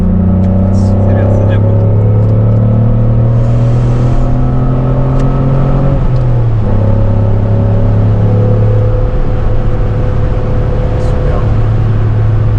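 A Citroën Xantia Activa V6 accelerates on the Nordschleife, its engine a loud steady in-car drone rising in pitch, then dipping with a gear change and climbing again, with people talking over it.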